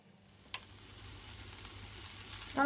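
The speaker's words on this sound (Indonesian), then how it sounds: "Bawang putih, bawang merah, cabenya ditumis sampai layu" Garlic, shallots and chili stir-fry in a pan with a soft, steady sizzle that builds gradually, one sharp clack of a utensil early on and a louder scrape at the end.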